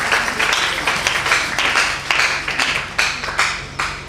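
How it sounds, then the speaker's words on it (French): A church congregation applauds, loud rhythmic clapping with regular beats building in waves, close and full, with no voices over it. "On applaudit Dieu pour ça."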